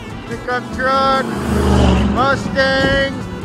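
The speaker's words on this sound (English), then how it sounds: "pickup truck," A pickup truck rolls past at a car cruise, a loud steady engine rumble from a close vehicle, with excited voices talking and shouting over it.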